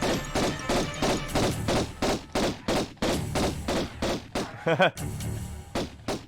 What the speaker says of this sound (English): I'm just keeping shooting him until he's gone